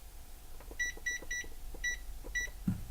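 An oven timer being set for cornbread beeps several times in short electronic tones amid faint button presses and a low kitchen hum.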